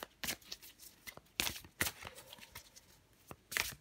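Tarot cards shuffled and drawn from a deck, quick papery riffles and snaps in several close, bright bursts with short quiet gaps between them, no voices.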